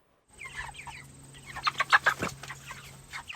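Chickens clucking close by in a poultry setting, a short burst of several sharp clucks rising to a loud cluster, over a faint steady hum.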